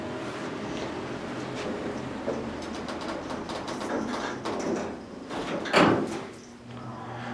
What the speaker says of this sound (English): Door operator's loud.